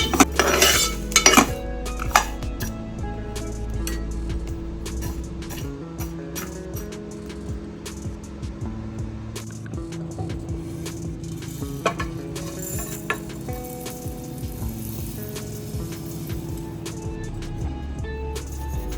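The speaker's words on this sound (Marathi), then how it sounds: "मंद आचेवर आहे ना, मस्तपैकी वास येईपर्यंत भाजून घ्यायचा आहे." Dry spices, including fenugreek seeds, rattle and scrape in a metal pan over low heat, with repeated clinks and stirring scrapes and a low steady background hum throughout.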